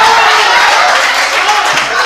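An audience claps at a Hindi poetry reading, a brief burst of dense, loud applause filling the whole moment with no voice over it.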